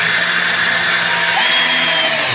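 A cordless drill backs a screw out of a piece of wood, its motor whining loud and steady at close range for a couple of seconds with no talk over it.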